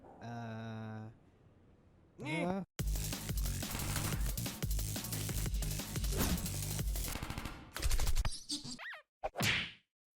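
Rapid bursts of gunfire from the Henry Stickmin Collection game fill most of the stretch, with whooshing and whacking effects before and after and a short burst near the end.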